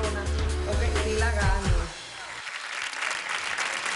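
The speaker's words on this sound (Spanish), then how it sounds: "Que se escuche el aplauso para Clarisa" A TV beauty pageant audience bursts into applause over live music; the clapping swells, then a softer, dense patter of clapping continues steadily.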